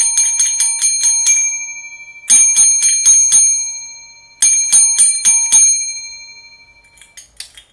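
A railway signal box bell taps out the 7-5-5 code for closing a box: a group of seven bright metallic strikes, then two groups of five, clear and close, followed by faint handling clicks.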